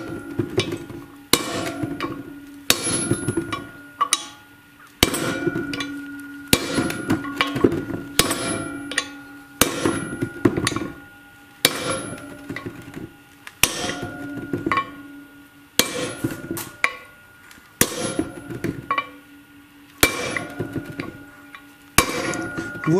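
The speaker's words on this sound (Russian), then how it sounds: "Бьем только по внешней обойме, обязательно." Repeated metallic hammer blows ring out in uneven bursts, clanging on the outer race of a bearing being fitted in a Miele washing machine, with short pauses between groups of strikes, close and loud.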